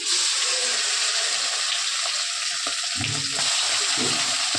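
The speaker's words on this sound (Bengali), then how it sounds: "এবার চিকেনগুলো দিয়ে দিচ্ছি" Marinated chicken pieces go into a hot pan for biryani and start frying, a loud continuous sizzle like rushing water filling the whole clip, with a few low thuds and stirring knocks near the end.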